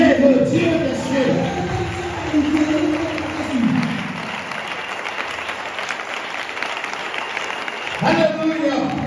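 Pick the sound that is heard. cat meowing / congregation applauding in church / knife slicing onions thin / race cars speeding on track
congregation applauding in church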